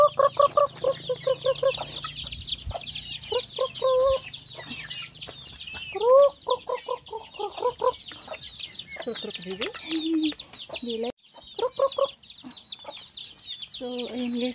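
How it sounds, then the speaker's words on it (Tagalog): A flock of chickens clucks busily at feeding time, close by. The calls come in constant overlapping bursts with rising squawks, and the chatter goes on without a break throughout. "pakainin natin yung manok"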